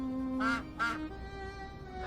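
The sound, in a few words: ducks quacking, story sound effect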